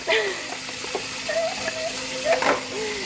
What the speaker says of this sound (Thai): ล้างจาน ล้างชามล้างหม้อ